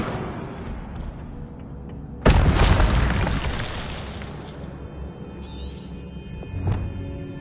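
Incendio fire spell from Hogwarts Legacy, a sudden loud whooshing burst of flame that roars and gradually dies away over a few seconds against quiet game ambience.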